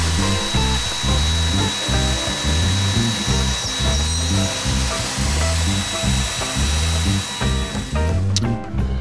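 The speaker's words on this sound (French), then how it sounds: "au perçage des cavités avec la défonceuse." A wood router bores cavities into a surfboard blank, a loud, steady high-speed whine with rhythmic pulsing as the cutter moves through the material, close up and continuous.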